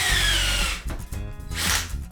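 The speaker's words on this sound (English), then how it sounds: "just drill some guide holes" Power drill boring guide holes into a wooden tabletop during a rustic table build, a steady loud whir for most of the stretch that drops off, then resumes briefly.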